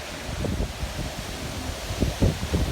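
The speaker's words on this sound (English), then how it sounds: "It was definitely more 70, 80-mile wind gusts than 60 to 70." Tropical Storm Isaias wind gusts on Long Island, a rough roaring rush of air buffeting the microphone in uneven surges, strongest toward the end.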